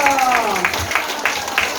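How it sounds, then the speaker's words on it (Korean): A crowd at a neighborhood association launch ceremony claps in a steady, rhythmic beat, with a voice speaking at the start. "박수해주십시오"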